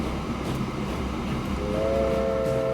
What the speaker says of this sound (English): I wouldn't know how a train this long is able to come out of this train depot.